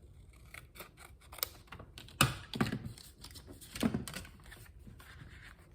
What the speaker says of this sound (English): let's get him, cut him off here actually and see how that goes